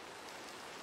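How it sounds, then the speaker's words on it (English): Steady rain falling in the Minecraft video game, a continuous even hiss of downpour with no talk, filling the short moment from start to end. "hope that it's going to stop raining soon"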